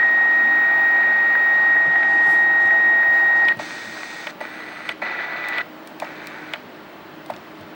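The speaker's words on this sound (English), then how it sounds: "It's an interference pattern." A RadioShack DX-395 portable shortwave radio gives loud steady interference with a piercing whine, which then breaks into softer static marked by sharp clicks and bursts.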